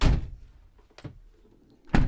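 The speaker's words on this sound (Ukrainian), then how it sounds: "Дверки глухо закриваються." A 2013 Renault Trafic van door shuts with a dull, heavy thud at the start, followed by another muffled closing thump near the end, with quiet rattles between.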